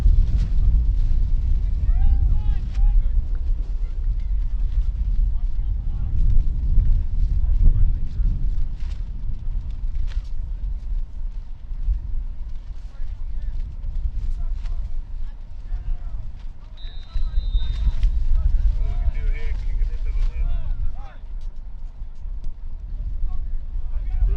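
Gusty wind over an outdoor high school football field during a game produces a heavy low rumble as it buffets the microphone, rising and falling for the whole stretch, while muffled voices are heard underneath.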